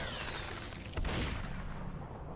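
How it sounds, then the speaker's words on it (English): A shotgun blast in the video game SUPERHOT is a muffled burst of gunfire that rises briefly over a constant noisy background, then fades into a steady wash. "Yeah, I did hear a shotgun."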